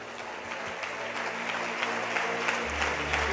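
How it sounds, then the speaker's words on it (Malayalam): A church congregation at a Malayalam Christian service claps together in steady, dense applause that fills the whole stretch, with no clear voices above it. "ഈ യേശുവിനെ സേവിക്കുന്നവർക്കൊന്ന് കൈയടിക്കാം"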